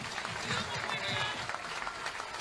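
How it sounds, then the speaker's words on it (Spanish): Applause for a speaker at a political party event in Canelones, a brief, fairly faint patter of clapping from a crowd lasting a couple of seconds. "Fuerte ese aplauso al compañero presidente de la departamental de Canelones,"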